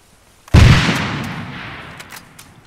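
A frag grenade explodes in ArmA III, a single sudden close blast with a deep thump that decays into a long rumbling tail over two seconds, nothing else around it.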